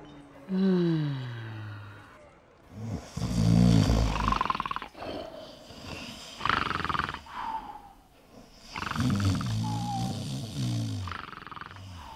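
Several drugged brigands lie stretched out on the floor, snoring heavily. Loud, rasping roar-like snores come in uneven bursts, deep, rumbling and close, with pauses of quiet between them.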